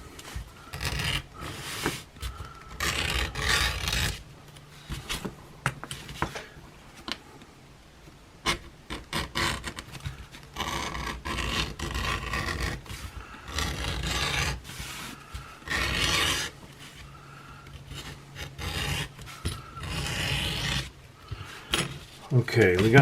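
The edges of leather suspenders are cleaned up with repeated rasping, rubbing strokes in irregular bursts, close and moderately loud, with someone talking at times between the strokes.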